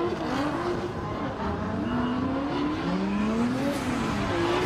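A Nissan R32 and a BMW drift side by side at a Pure Drift event in the 2023 season, a dense continuous roar of high-revving engines with a rising and falling pitch, loud and close throughout.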